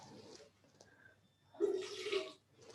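Wine poured into a glass at a tasting, a soft gurgling splash that rises for under a second, quiet and close, framed by faint background sounds.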